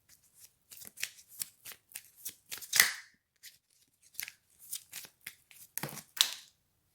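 Oracle cards being shuffled by hand in a quiet room: a steady run of short, crisp riffling bursts, close and fairly loud, with brief pauses between them and no talking.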